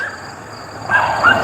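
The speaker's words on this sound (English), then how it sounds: "Neighbor has some seriously noisy dogs" A neighbor's dog barks twice, short and fairly close, in quick succession near the end, after a moment of quiet room noise.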